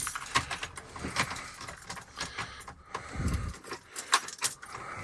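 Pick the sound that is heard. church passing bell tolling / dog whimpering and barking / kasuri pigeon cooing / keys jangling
keys jangling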